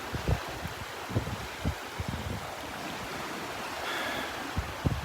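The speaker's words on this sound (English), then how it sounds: "The beach at Delnor-Wiggins Pass State Park." Waves on the beach at Delnor-Wiggins Pass State Park in North Naples, a soft continuous wash of surf with gentle wind and faint thumps from footsteps on a morning walk.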